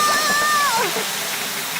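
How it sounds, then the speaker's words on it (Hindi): A garden hose sprays water in a Peppa Pig cartoon, a steady, even hiss that fills the whole moment, with a brief thin whistling tone over the spray at the start. "पेपा ने पाइप पकड़ी और डैडी पिग ने पानी शुरू कर दिया"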